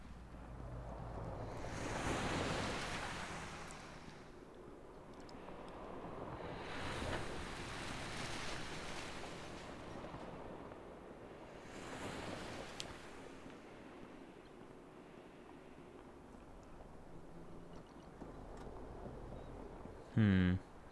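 Surf and ocean waves wash in long swells in a video game, rising and falling roughly every five seconds with a windy hiss. A voice talks over parts of it, and a short thump lands near the end.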